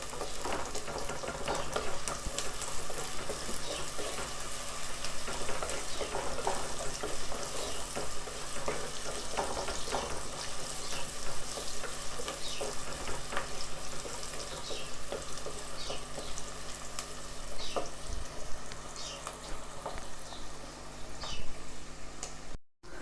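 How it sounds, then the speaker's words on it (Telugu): Sliced onions sizzle steadily in a hot pan for a Telangana-style chicken fry. The frying hiss is continuous and close, with occasional stirring scrapes and no talk. "ప్రజెంట్ అయితే ఈ ఉల్లిపాయలు వేగడం కోసం మాత్రమే వేసాను అనమాట"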